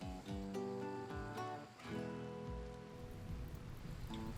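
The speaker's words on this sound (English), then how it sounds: "Plus, the rain came. The rain has taken care of all of it." Rain falling in the RimWorld video game, heard as a soft, steady patter under faint layered tones, with no talk.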